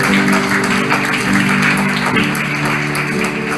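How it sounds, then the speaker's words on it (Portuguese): A church congregation applauds during a worship service, giving dense, continuous clapping that holds steady and loud throughout. "Dê uma salva de palmas ao Senhor."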